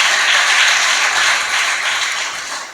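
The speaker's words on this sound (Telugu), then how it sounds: "ఒకసారి చప్పట్లు కూడా దేవుని స్తుతిస్తారా?" Church congregation clapping in praise during a Pentecost Sunday service, a dense, loud, steady wash of many hands applauding together, fading slightly toward the end.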